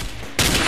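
Gunfire bursts out in the blocky shooter game Ace of Spades, a loud broadband blast that starts abruptly partway through after a quieter stretch and holds steady without pause.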